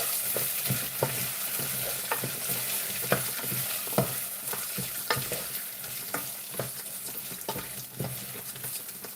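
Rice stirred in a pan with a little oil gives a steady frying sizzle, broken by regular scraping strokes of the spoon roughly every half second, close and fairly loud, with no talking.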